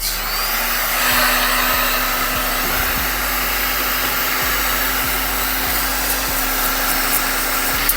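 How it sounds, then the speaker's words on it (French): Heat gun blowing hot air at full setting while working on a Booster scooter engine, a loud continuous whooshing roar with a steady hum, close and unbroken. "on tente au décapeur thermique"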